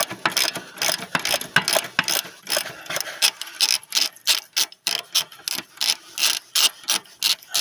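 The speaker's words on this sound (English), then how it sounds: "you can just worry about ratcheting the one side" A ratchet wrench spins a nut off the axle bolt of a 2008 GMC Sierra 3500 during half-shaft removal, giving close, loud, rapid clicking strokes that break into a steady back-and-forth rhythm of separate ratcheting swings.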